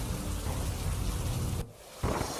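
Heavy rain pours down at the Ambaji pilgrimage site in Gujarat as a loud, steady, close downpour that briefly dips before surging back.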